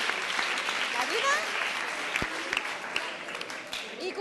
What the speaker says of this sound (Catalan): un aplaudiment que hem de donar suport